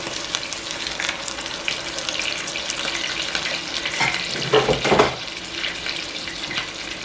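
Frozen cauliflower rice cooks gently in a pan with a steady soft sizzle and crackle, close up, with a brief louder burst of stirring or spattering near the end and no talking.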